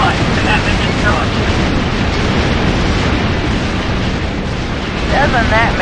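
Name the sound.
spacecraft being destroyed, explosion in video game X-Wing Alliance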